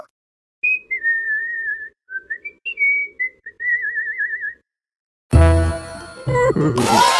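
Someone whistles a wavering, tuneful melody for a few seconds, followed by a sudden burst of loud, mixed noise.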